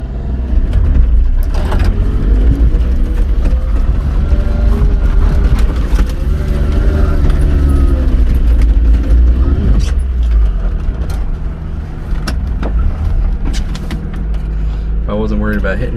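A mini-truck engine labors in second gear low through deep snow off-road, a loud, strained, steady growl with rising and falling revs and occasional knocks, while people talk over it.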